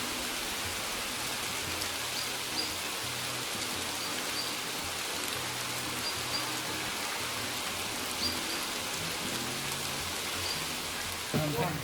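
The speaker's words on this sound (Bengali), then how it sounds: "তো গাইজ বৃষ্টি হচ্ছে দেখতে পাচ্ছ।" Steady rain falls at Sittong near a homestay, a dense, even hiss that holds for the whole stretch at moderate level, with faint voices murmuring underneath.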